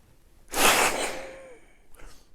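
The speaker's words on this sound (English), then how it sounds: "So I take a deep breath" A single deep, forceful breath is drawn into a spirometer at close range. It is a loud, breathy rush that fades over about a second, followed by faint soft breathing.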